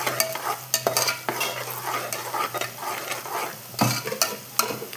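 Sliced onions with green chillies sauté in a hot pan for a Chennai-style paneer biryani, a steady close sizzle broken by repeated scraping strokes of a spoon stirring.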